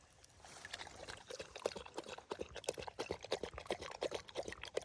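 Water drains from a garden hose at a farm duck pond, a quiet, uneven splashing and trickling stream with irregular gurgles.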